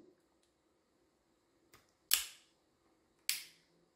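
Quiet mechanical clicks from a black powder revolver's cylinder being turned slowly into index, with two sharper, louder snaps near the end, close up and without speech.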